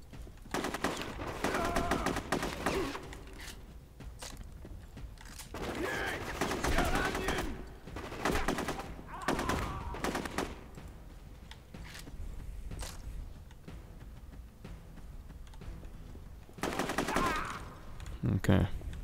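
AK rifle fire in the Rogue Warrior video game, repeated bursts of automatic shots separated by short pauses, with someone talking at times between the volleys.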